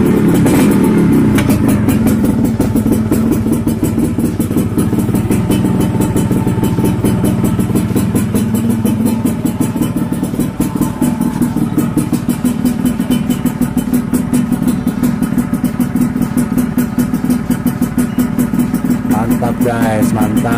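A 1997 Yamaha RXZ two-stroke motorcycle engine runs steadily close by, a continuous buzzy idle with a fast crackling exhaust pulse and a slight rev near the start, no voices.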